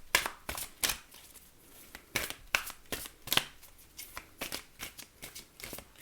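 A deck of oracle cards is shuffled by hand during a love reading, giving a crisp riffling flutter that comes in repeated bursts, close and fairly loud, with no talking over it.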